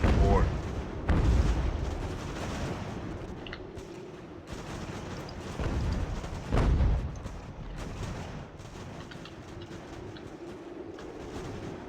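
Artillery cannons firing near a fort in the Fort Ticonderoga battle of Ultimate General: American Revolution, several spaced booms over a steady rumbling battle din, with a voice talking faintly beneath.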